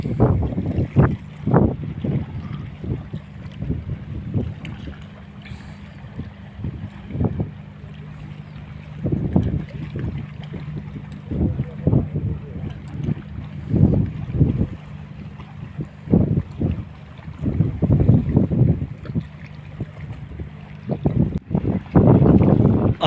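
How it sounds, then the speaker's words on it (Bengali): Strong wind buffets the microphone outdoors on a river while fishing, with low rumbling gusts rising and falling continuously. "প্রচুর পরিমাণ বাতাস আজকেও"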